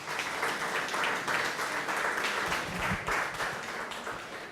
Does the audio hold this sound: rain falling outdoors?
no